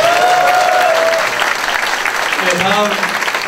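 Audience at a fathers' camp orientation meeting claps together, a dense, steady burst of applause that holds throughout, with voices talking over it.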